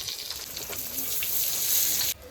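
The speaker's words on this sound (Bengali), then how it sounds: "এবার বেগুনটা একটু বেশি করে তেল দিচ্ছি, বেগুনটা ভেজে নেবো" Eggplant slices fry in a generous amount of hot oil, giving a steady bright sizzle that fills the stretch and cuts off abruptly near the end.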